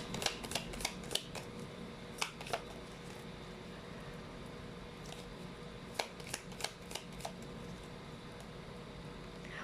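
Tea leaf fortune cards shuffled nearby in repeated crisp clicks and flicks, loose clusters of snaps separated by pauses, over a constant soft background hiss.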